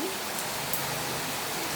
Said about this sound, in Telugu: ఒక్క ఫైవ్ మినిట్స్లో చూడండి ఎంత పెద్ద వర్షం వస్తుందో చూడండి చాలా వేగంగా వస్తుంది వర్షం